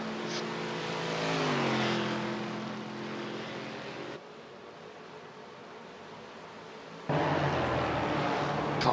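Mazda MX-5 race cars in a sim racing game, lapping Monza: engines drone and rise in pitch as they pass, with a sharp cut between camera views. Loud and fairly close, with no voices.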